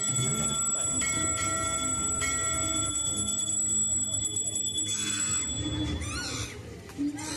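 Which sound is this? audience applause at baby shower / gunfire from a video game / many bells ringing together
many bells ringing together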